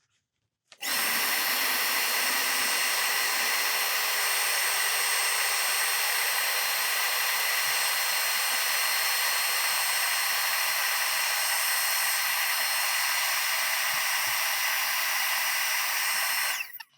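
Power sanding of a woodturned piece with a pewter metal inlay, a loud, continuous motor whine with a steady high-pitched tone and abrasive hiss that starts abruptly and runs unbroken before cutting off.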